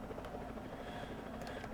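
Helicopter rotor noise from a video game, a steady, fairly loud broadband whir with a low pulsing thump, continuous across the short stretch with no talk over it.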